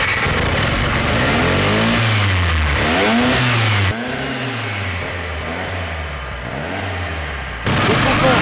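A rotary engine revs hard and loud, its pitch sweeping up and down in repeated rising and falling surges, close by and sustained with a brief dip before climbing again.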